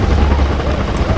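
Helicopter in the video game Far Cry 4, a loud, steady rotor drone with low thumping and a broad roar, constant and close for a brief moment.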